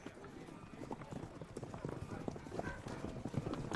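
Horses pulling travellers into a fantasy city clip-clop in a steady, close rhythm of hoof strikes on hard ground that runs throughout.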